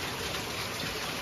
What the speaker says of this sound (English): It's definitely raining.